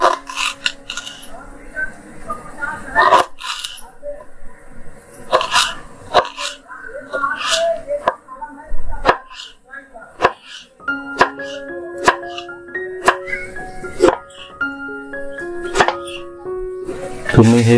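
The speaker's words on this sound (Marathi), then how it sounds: "हा बांबू मी या इथून छोटा छोटा कापत घेणार आहे" Tender young bamboo is chopped into small pieces with a knife, a series of sharp, irregular chops ringing out close by, with a person talking in between.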